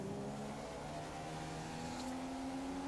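Formula 1 cars in the F1 2015 racing game scream along the straight of the Russian Grand Prix, a faint, steady high-revving engine whine with a slowly rising pitch and no speech.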